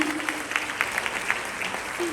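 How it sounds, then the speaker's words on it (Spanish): Audience applause fills a church service gathering, a steady wash of clapping with a voice briefly heard over it. "Denle un fuerte aplauso y puede sentarse."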